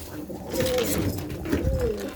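Tumbler pigeons coo nearby in soft, repeated low throaty calls over a short stretch, with faint speech in the background.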